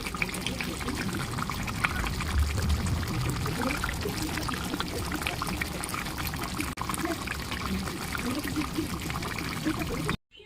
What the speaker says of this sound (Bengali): তো এবার আমরা একটা বোলের মধ্যে ঢেলে নেব